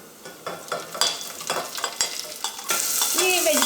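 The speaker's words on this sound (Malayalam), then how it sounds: "ഞാനിപ്പോൾ എല്ലാ വെജിറ്റബിൾസും കാഷ്നട്ടും എല്ലാം കൂടിയിട്ട് ഒരുമിച്ചാണ് ഇതിലേക്ക് ചേർക്കുന്നത്" Mixed vegetables and cashews stir-fry in ghee with a run of scraping spoon strokes and soft clatter, then a louder, sustained sizzle takes over near the end.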